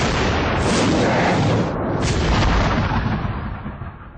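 British cannon firing canister shot in a 1759 battle at Quebec: a heavy booming blast with a long rumbling roar, swelling again midway, then fading out over several seconds.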